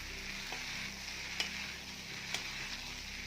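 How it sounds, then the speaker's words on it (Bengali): A pasta mixture fries lightly in a pan with a soft, even sizzle, while a few faint clicks of stirring stand out, quiet and close, with no voices. "এটাকে আমি হালকা ফ্রাই করে নেব।"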